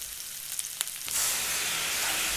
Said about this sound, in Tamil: சிக்கனை போட்டு கிளறி விட்டுட்டு அதுக்கு மேலே பச்சை மிளகாய் போடுங்க.